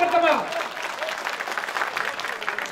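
Crowd applause at a poetry mushaira in Sakinaka, Mumbai, a steady wash of clapping rising right after a voice and holding at moderate loudness.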